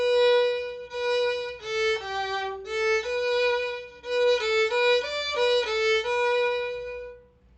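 Violin playing the first half of a lesson exercise section, a steady run of clear bowed notes with short breaks, close and solo with no talking.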